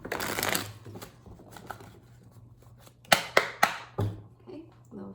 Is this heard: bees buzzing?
no